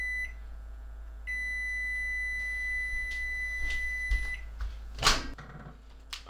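A microwave oven sounds steady tonal beeps as it finishes cooking, two sustained tones close by, followed by a door clunk and handling noises in a quiet room.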